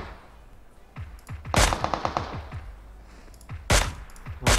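Gunfire in PUBG Mobile: rapid automatic bursts with sharp individual shots, loud and close, followed by a few separate heavy reports.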